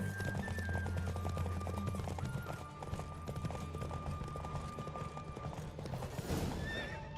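Galloping hooves drum in a fast, steady rhythm during a horse race in The Witcher 3 video game, with a horse neighing and whinnying over game music.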